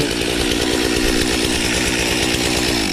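A chainsaw mounted on a chainsaw mill runs steadily at high revs, a loud close buzzing drone with no pauses and no voices.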